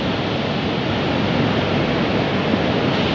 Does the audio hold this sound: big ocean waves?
yes